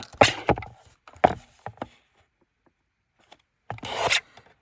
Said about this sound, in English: We're going to cut to here.